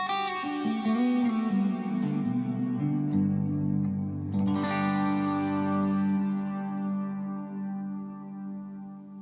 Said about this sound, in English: only the wet side is getting this verb, and you still get a dry guitar sound